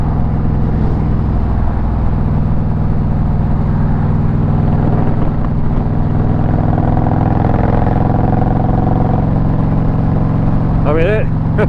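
An Indian Challenger motorcycle with a TAB Performance cat delete idles and rumbles with a deep, steady exhaust drone, loud and continuous. Someone talks over it throughout.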